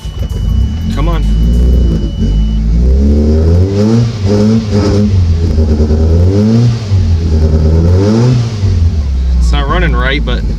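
Toyota Paseo engine running rough after being restarted, its revs loud and close, rising and falling unevenly in repeated swells and dips throughout.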